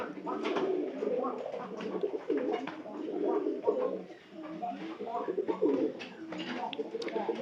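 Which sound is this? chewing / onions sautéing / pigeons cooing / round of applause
pigeons cooing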